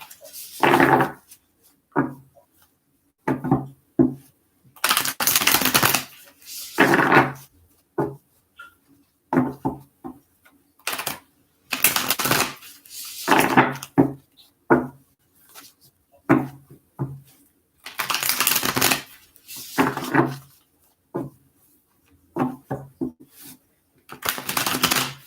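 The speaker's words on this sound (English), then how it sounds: "So just a couple more shuffles here." Tarot cards being shuffled by hand during an astrology card reading, coming in repeated short bursts of riffling and tapping, close and fairly loud, separated by brief quiet gaps.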